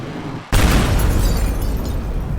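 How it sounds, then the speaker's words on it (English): A loud explosion in the video game Teardown bursts suddenly and blows up objects, followed by a sustained, rumbling roar of debris. "That means we'll have to blow up the others."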